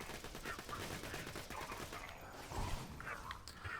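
Rapid bursts of Infinity pistol fire in Borderlands 2 crackle steadily through the whole stretch, dense and continuous with game effects layered on, and a heavier impact thump near the end.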